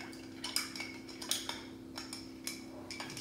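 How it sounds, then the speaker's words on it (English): An Old Fashioned cocktail is stirred over ice with a bar spoon, giving soft irregular clinks and taps against the glass with a steady low hum underneath, fairly quiet and close. "And now you want to just stir this to get it cold."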